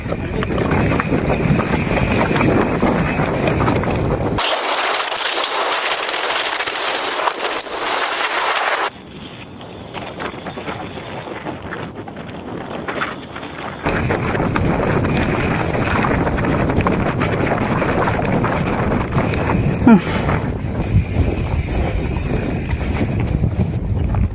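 Riding a boat on open water toward Kutubdia, Bangladesh, with a constant loud rush of wind and engine noise that briefly drops and changes character midway before returning.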